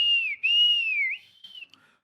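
A single sharp, high whistle from an audience at a political event, one sustained wavering note lasting about a second, followed by a fainter brief trailing whistle.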